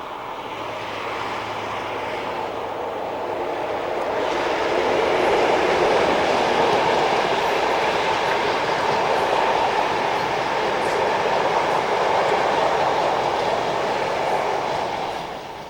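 A Penmaenmawr stone train passes with a broad, sustained rumble that swells after a few seconds, holds steady at full strength, and eases slightly at the end, with no voices.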